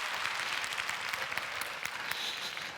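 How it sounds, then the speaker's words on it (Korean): Church audience giving a big round of applause after a CCM singer's worship and testimony set, dense steady clapping with no voices over it. "다시 한번 큰 박수로 감사하겠습니다"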